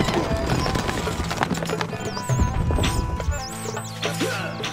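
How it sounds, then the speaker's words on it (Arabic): Horse hooves clip-clopping in the Stronghold Crusader strategy game, a busy fast patter of hoofbeats with whinnies and game effects layered over it, loud and continuous. "الحصان سريع."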